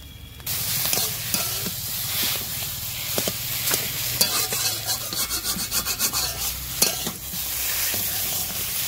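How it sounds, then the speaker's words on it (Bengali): Potatoes frying with turmeric in a pan, a steady close sizzle under repeated scraping and rhythmic stirring strokes, with no speech. "হলুদ দিয়ে ভেজে নেবো আলু।"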